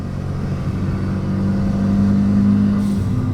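A Renault Megane RS RB8 special edition engine pulling hard on a mountain road, a steady in-cabin engine drone that rises in pitch as revs climb, then drops off near the end.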